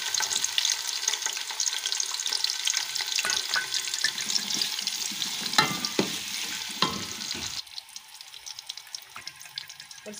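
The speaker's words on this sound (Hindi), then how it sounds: "ये ऑयल मेरा गर्म हो चुका है। अब मैं इसमें प्याज डाल दूँगी।" Onions sizzling as they hit hot oil in a home kitchen pan, a steady broadband fry with stirring scrapes and clinks throughout, the sizzle easing slightly near the end; no one speaks.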